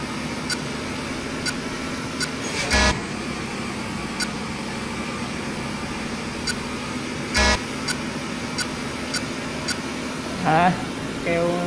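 A container truck's horn in a driving simulator game blares in three short, loud honks spaced seconds apart, over a steady engine hum and faint ticking.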